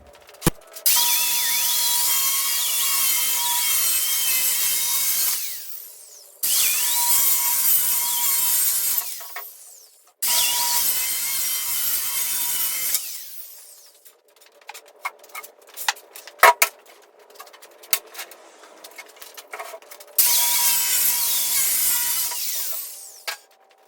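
Power saw cutting through salvaged wood from a shipping crate, several loud sustained bursts separated by pauses, with a stretch of clattering and knocking between cuts.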